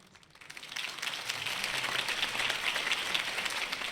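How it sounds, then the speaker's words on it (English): Crowd applause swells up after a campaign speech in the video game Batman: The Telltale Series, a dense, steady clapping that builds within the first second and holds, moderately quiet with no talking over it. "If only Mr. Wayne, my campaign's largest backer, could have heard that applause"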